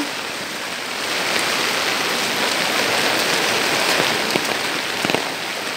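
Heavy rain pours steadily in a dense, even hiss, with occasional louder drops spattering close by.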